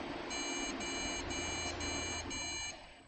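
ASRock B75M motherboard sounds POST beep codes at power-on: a run of five short, even electronic beeps in a regular rhythm over a constant fan-like hiss, close and clear with no voices.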